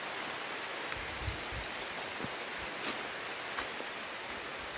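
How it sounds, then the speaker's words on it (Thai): Heavy rain falling outdoors makes a steady, even broadband hiss, with a few faint soft thumps and brief splashes scattered through it and no voices. "ฝนตกหนักพี่น้อง"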